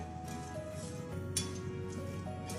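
Leftover Thanksgiving food being mixed together in a bowl with salt and pepper, giving steady light clinks and scrapes of a utensil against the bowl, close and continuous, with one sharper clink midway.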